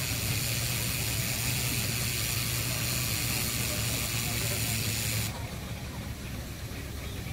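A showman's steam wagon at a steam rally, with a steady loud hissing and rumbling roar that drops off abruptly near the end, leaving a quieter background.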